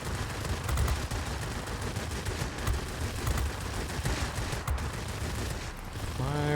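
Spitfire XVI guns rattle in sustained close bursts of rapid fire during aerial combat in World of Warplanes, a loud dense chatter running nearly the whole time with no talk.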